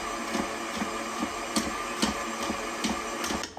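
Gingerbread cake batter being beaten thoroughly in a mixing bowl, with the sides scraped down: a steady whirring hum with regular soft ticking clicks about every half second, close and fairly quiet.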